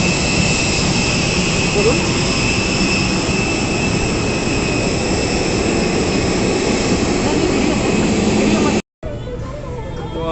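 A jet aircraft engine beside the plane at an airport during boarding, a loud, steady roar with a high whine running throughout, a short spoken word near the end after a brief cut.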